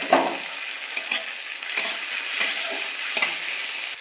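Onions fry in oil in a pan for a prawn curry, with a steady broadband sizzle running throughout and several louder scrapes and stirring clatters rising briefly above it.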